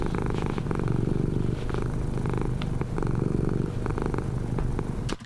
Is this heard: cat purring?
yes